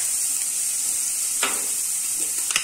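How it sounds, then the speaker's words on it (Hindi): Chillies, ginger, garlic and coriander frying in a pan, giving a close, steady sizzle with a couple of brief stirring scrapes and no voices. "इसको आप अच्छे से फ्राई करेंगे।"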